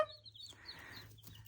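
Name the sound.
Americana chicks peeping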